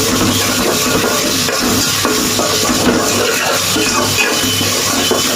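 Ginger, garlic and green chili paste with spices sizzles steadily in rice oil in a pan, a close, continuous frying hiss with faint scraping as it is stirred, no talking.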